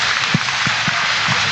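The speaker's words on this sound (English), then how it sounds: "Give them all a big round of applause." An audience applauds at a market goat showmanship event, a steady wash of clapping with a few soft low thumps mixed in.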